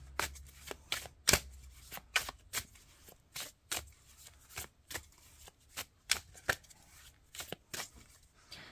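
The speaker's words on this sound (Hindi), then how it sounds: "देखते हैं कार्ड्स क्या हैं।" Tarot cards being shuffled for a reading, giving quiet riffling and soft slaps in an uneven rhythm, close up and alone with no talk.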